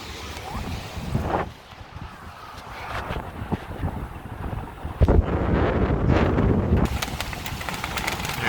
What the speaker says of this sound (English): Just to give you perspective of what the wind is like.